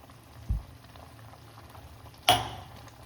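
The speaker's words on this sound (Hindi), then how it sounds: "इसमें बबल्स आ रहे हैं ना, जिस बबल की मैं बात कर रही थी, यही है वो बबल, खतरनाक वाले" A spinach, soya and fenugreek dish simmers in a pot, giving a low bubbling murmur broken by two distinct pops, a small one early and a louder splatter near the end.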